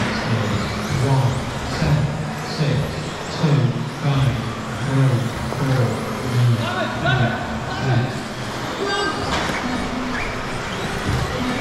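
Schumacher Cougar LD2 radio-controlled cars racing at a winter championship round, small electric motors whining and rising and falling in pitch as they pass, heard under steady commentary.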